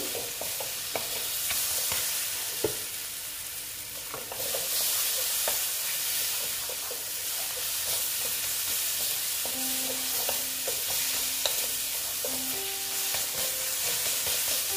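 Spiced egg and potato curry masala with turmeric being sautéed in a pan, a steady close sizzle with scattered clinks and scrapes of a stirring spoon, no voices.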